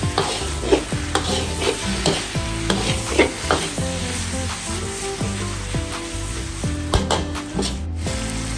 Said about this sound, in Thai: คนผัดให้เข้ากันครับ